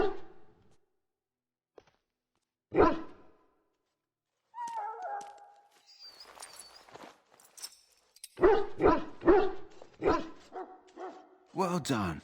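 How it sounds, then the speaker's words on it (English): A sick dog in the video game Dragon Age: Origins gives a few short barks and yips, spaced out between bursts of nearby speech and quiet stretches. "Now I can treat the dog properly, poor fella."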